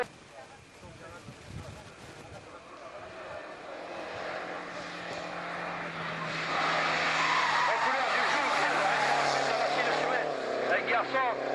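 Renault R5 rally car at a rally event, engine revving hard and rising in pitch as it accelerates, loud and near, with tyre noise and a commentator talking over it.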